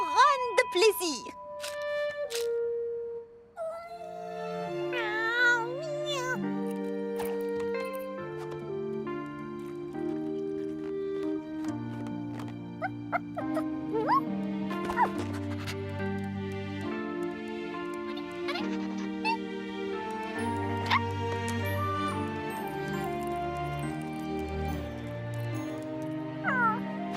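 A cartoon cat in a children's animated show gives a few short, high, sliding meows over bouncy background music, the music continuing throughout.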